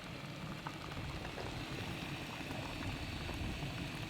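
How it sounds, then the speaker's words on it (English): Water just coming to a boil gives a steady, dense bubbling and hissing that holds evenly throughout, close and continuous, with no voices. "Just started boiling."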